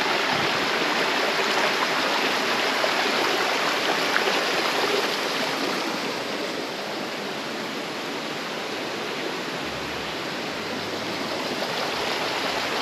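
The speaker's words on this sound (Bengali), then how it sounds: "ফলসের আকারে ওপর থেকে নিচে থেকে যে জল পড়ছে দেখাচ্ছি" Waterfall at Cherrapunji pouring from above onto large rocks: a steady, loud, broadband rush of falling water that stays constant from start to finish, with no voices.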